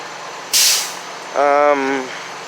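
A tow truck's air brakes release a sharp hiss, followed by a short rising whine or beep as it prepares to tow cars away from a rollover scene.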